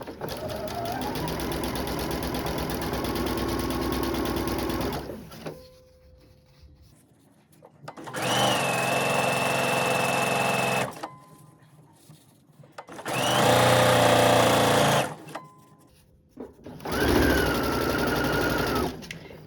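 Sewing machine stitching fabric piping over cording, running in four loud sustained bursts of a few seconds each, separated by short quiet pauses.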